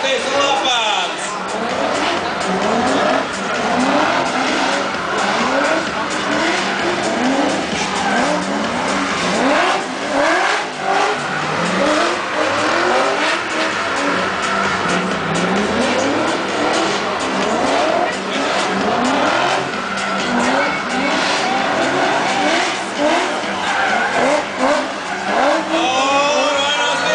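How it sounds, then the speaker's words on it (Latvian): Pro-class street drift cars in Latvia running in tandem pairs, engines revving hard and tires squealing continuously through long slides, loud and close, with a commentator talking over the action throughout. "brauks labākie braucēji pa pāriem, cieši viens aiz otru"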